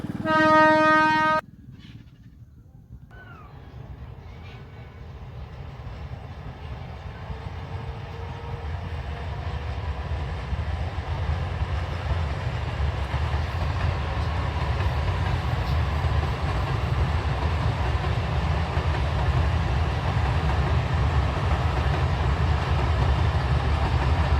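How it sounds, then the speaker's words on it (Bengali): A train passing on a misty morning, opening with a loud horn blast, then a brief lull before a long, steady rumble of wheels and carriages that builds and holds, close and heavy. "ট্রেন আসার সময় হয়ে গেছে চলো একটু ট্রেন দেখে নিই আমরা"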